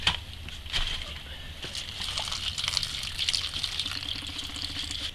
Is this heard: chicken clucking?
no